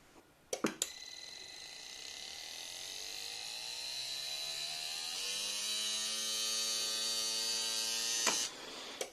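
The 9,000 RPM motor of a kids' 12 volt electric car, which is smoking and failing, starts with clicks and runs as a buzzing, rising whine, steady and close, for about eight seconds before switching off with a click.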